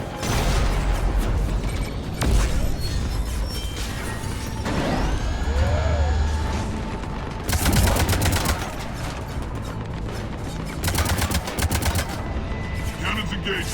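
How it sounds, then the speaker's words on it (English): Cannons fire during an enemy attack on a bunker, loud bursts of rapid, gunfire-like blasts mixed with clanking mechanical noise. The shooting repeats in several dense volleys over a constant, heavy background din. "Cannons engaged."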